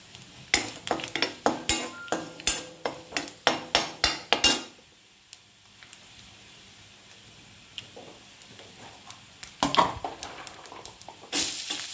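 Mustard seeds tempering in hot oil in a pan for a South Indian brinjal tomato dal, heard as rapid sharp pops and clinks of a spoon against the pan, then quieter sizzling, with a burst of crackling returning near the end.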